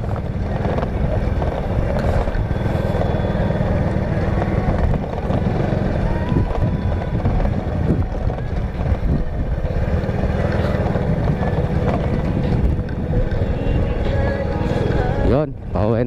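A vehicle drives over a rough, potholed dirt road near a camping site in Norzagaray, Bulacan, with a constant loud engine drone and rumbling jolts, plus occasional faint voices.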